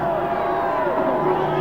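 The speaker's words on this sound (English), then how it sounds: "Feverish excitement generated in the stands." Excited crowd in the grandstands at Indianapolis before the Indy 500, a dense continuous roar of many voices heard from within the crowd, with a narrator talking over it.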